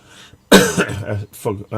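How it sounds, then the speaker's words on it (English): A person coughs and clears their throat in a couple of close, harsh bursts, with a voice heard around them. "Forgive me if I'm a little bit, coughing and all that now"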